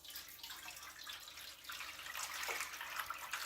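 Pudding mixture is poured into a baking pan, a faint, steady liquid trickle and splash running for a few seconds and growing slightly louder toward the end, with no talk.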